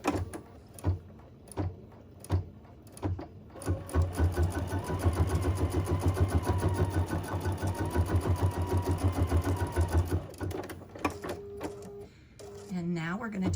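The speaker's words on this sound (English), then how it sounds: "it's going to stitch out a placement line for the little bunny's" An embroidery machine stitches an appliqué placement line in the hoop. A rapid, even mechanical chatter runs close for several seconds between scattered clicks and knocks, then winds down.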